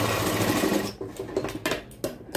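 A sewing machine runs steadily while stitching the side seam of a blouse, a dense continuous whir for about a second, then breaking into short irregular bursts of stitching with brief pauses between them.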